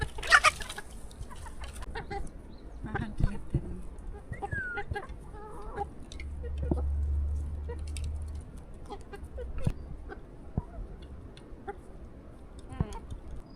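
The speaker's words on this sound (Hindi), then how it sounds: "ये है जी हमारा मुर्गा, ये देखिए। तो ये एक मुर्गा है और बाकी जी 8 मुर्गियां हैं हमारे पास।" A rooster clucks in short, scattered bursts on a village farm alongside a few hens, heard close and moderately loud over a quiet background with some low rumbling and occasional other noises.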